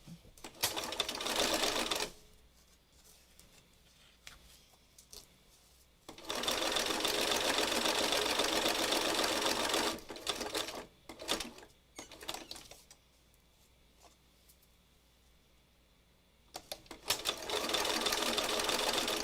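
A sewing machine stitches on and off the edge of a fabric square for a meandering book, running in loud sustained bursts separated by quiet pauses, three main runs with short stops between.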